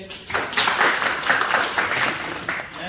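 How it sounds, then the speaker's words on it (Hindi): A group of trainees at a CPR and first-aid class claps together for a well-done chest compression, a moderate, uneven patter of hands close by that carries on throughout. "ताली बजाओ इसके लिए"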